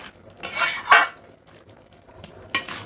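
A spoon stirring young pumpkin and potato with sugar in a pan: a few scraping and clinking strokes, two of them louder, over a faint background sizzle, heard up close with no talk.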